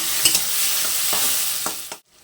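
Two medium tomatoes sizzle in an oiled pan with a hissing fry while a spoon scrapes and stirs in several brief strokes, close up, before the sound cuts off abruptly.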